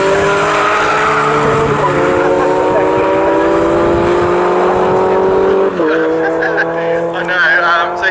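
Racing cars in a BRSCC Fun Cup race at Snetterton roar past in a tight pack, engines droning loudly, their pitch shifting and dropping as the cars go by, with a tyre squeal near the end.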